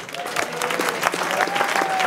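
A hall audience at a sports and business awards event claps for the sports jury, a dense, steady burst of applause with a few voices mixed in.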